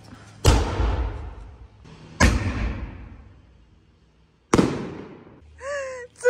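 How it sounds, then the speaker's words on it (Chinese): Three loud firecrackers explode one after another, each a sharp, nearby bang with a long, rumbling decay, separated by pauses of a second or two; a brief voice follows at the end. "我是特别讨厌那个炮，那个炮声音特别大"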